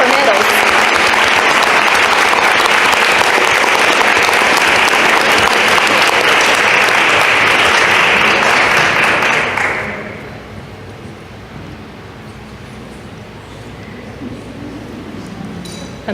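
A board meeting audience gives a steady, loud round of applause for a certificate and medal recipient, holding strong for about ten seconds before dropping away to quiet room noise.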